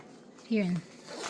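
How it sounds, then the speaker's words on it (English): Zipper on a kids' day-hiking bag pulled once in a short, close rasping sweep, with quiet room sound around it. "here's the zipper"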